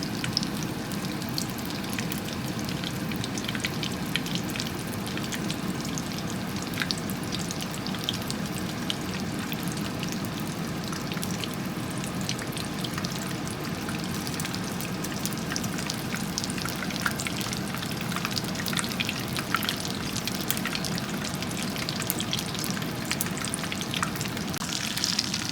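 Breaded donkatsu pork cutlets fry steadily in hot oil, giving a dense, continuous crackle and sizzle close up with no pauses, unbroken by talk throughout.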